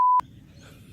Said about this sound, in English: I heard a beep and I thought it stopped.